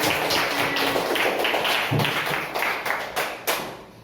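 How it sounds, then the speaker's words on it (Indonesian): A classroom of primary school pupils clapping, a dense wash of hand claps with a few louder individual claps standing out, tapering slightly near the end. "Yuk beri tepuk tangan yang semangat"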